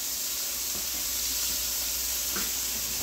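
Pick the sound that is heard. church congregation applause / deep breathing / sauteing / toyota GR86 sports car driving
sauteing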